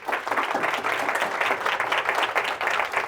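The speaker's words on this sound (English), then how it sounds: "They deserve a round of applause." Audience applause at the close of an evening panel event on job seeking and employers, steady dense clapping filling the whole stretch without pause.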